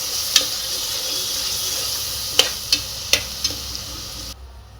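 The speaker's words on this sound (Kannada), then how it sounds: "ಈಗ ಸ್ವಲ್ಪ ಅರಿಶಿಣದ ಪುಡಿ, ಖಾರದ ಪುಡಿ, ಧನಿಯಾ ಪುಡಿ ಇದಿಷ್ಟನ್ನು ಹಾಕಿ ಒಂದ್ಸಲ ಫ್ರೈ ಮಾಡ್ಕೊಳ್ಳೋಣ" Turmeric, chili and coriander powders fry in a hot pan, a moderate steady sizzle with several sharp spoon taps against the pan, dropping to near quiet just before the end.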